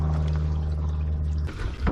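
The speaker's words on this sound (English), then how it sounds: "let's fill it up with some water" Water gushes from a hose into the fuel tank of an abandoned 1972 Plymouth Fury, a steady loud rushing pour that falters and splashes near the end.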